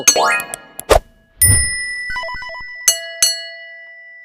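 Bright bell dings ring out among a string of quick cartoonish sound effects, with a short melodic chime pattern and sharp metallic strikes.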